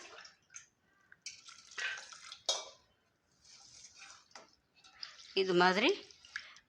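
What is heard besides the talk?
water being added to sago for upma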